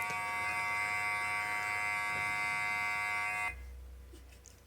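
Electric hair clippers with the lever open buzz steadily and closely while cutting a fade, then the motor cuts off abruptly, leaving only faint room noise.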